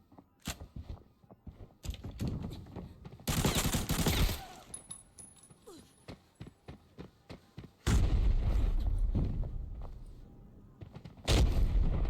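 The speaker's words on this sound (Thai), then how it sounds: "คนยิงกัน เต็ม" Bursts of gunfire from the tactical shooter game Arena Breakout: scattered single shots and dense rattling volleys, some close and loud, others distant, with two heavy sustained fusillades, no speech over them.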